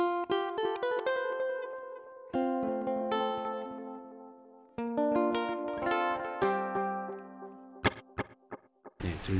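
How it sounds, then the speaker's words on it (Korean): A ukulele played through a delay effect pedal on a pedalboard, plucked notes and strummed chords each followed by fading repeating echoes, clear and fairly quiet, ending with a few sharp percussive taps. "딜레이는 이제 한번 똥 치면은 그 다음에 똥, 똥, 똥, 뭐 이런 이펙터예요."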